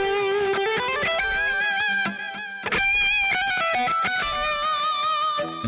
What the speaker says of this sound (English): it's just like a smoother kind of a distortion